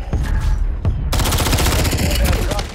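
Rapid gunfire rattles loudly in Call of Duty Warzone, overlapping bursts and single shots crackling close, swelling into a dense fusillade after a short gap.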